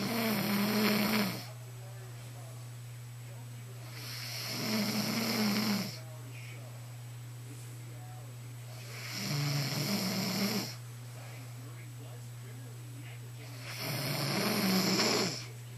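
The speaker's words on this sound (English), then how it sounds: "definitely snoring." A person snores in slow, regular cycles, with four breathy, rasping swells about every four seconds over a constant low electrical hum in a quiet room.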